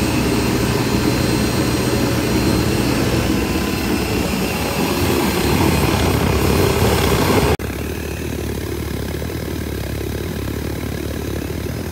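A propane burner on an autoclave boiler roars steadily and loudly up close, with an abrupt drop in the roar partway through before it continues at a lower level.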